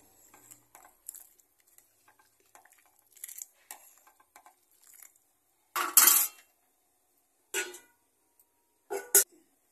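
A spoon scraping and clinking against a pot of dal being stirred in a home kitchen, in short sharp bursts spaced by quiet gaps, close and fairly loud, with no talking.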